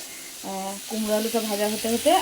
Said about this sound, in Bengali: আর একদিকে হচ্ছে মিষ্টি কুমড়ো আর আলু পেঁয়াজ দিয়ে ভাজা